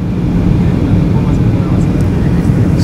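Steady, loud engine drone of an airplane in flight, heard from inside the cabin on a flight to Mexico, a continuous low roar that holds even throughout.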